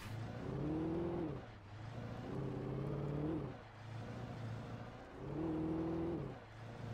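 Car engine in the video game Alan Wake, revving in repeated rising surges as it accelerates and shifts, a steady close drone with no talk over it.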